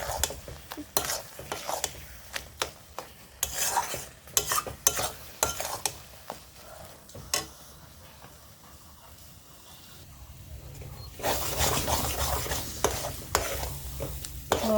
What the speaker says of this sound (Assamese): এতিয়া মই এইখিনি ভালকৈ এনেকৈ খুন্তিৰে হেঁচি ভাজি ল'ম